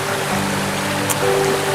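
The waterfall at Curug Cikuningan in East Bogor pours in a steady, loud, close rush of water that stays constant throughout, with a faint tonal hum underneath.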